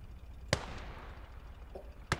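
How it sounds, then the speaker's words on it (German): Two sharp, loud gunshot cracks about a second and a half apart, with a faint muffled pop between them over a low rumbling background, in the WWII video game Gates of Hell. "Schuss von hinten."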